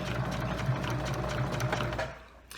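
A sewing machine stitching a zipper seam, a fast close mechanical chatter of needle and gears running steadily before stopping near the end.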